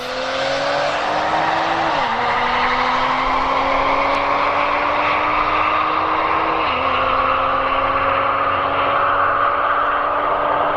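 An Audi SQ5 launching down a drag strip gives a loud, close engine roar that climbs steadily in pitch, dropping briefly at two upshifts before rising again as the car pulls away.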